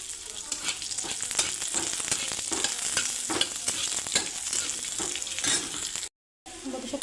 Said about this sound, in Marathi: तेल गरम झाले, आपण कांदा भाजून घेऊया।